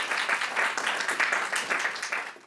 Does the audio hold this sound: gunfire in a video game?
no